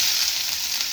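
Onions sizzling in hot oil with mustard seeds, the start of a tomato kuzhambu: a steady, loud, close hiss of frying with no speech.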